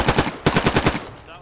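Two quick, rapid bursts of automatic gunfire in a military shooter game, loud and close, about five shots each with a short gap between them, then fading.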